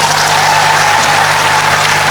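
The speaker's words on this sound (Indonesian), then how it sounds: "coba tepuk tangan." Audience at a political stand-up comedy show claps steadily and loudly, a dense unbroken wash of applause throughout.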